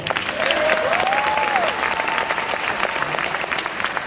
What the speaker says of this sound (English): we give Dallas a round of applause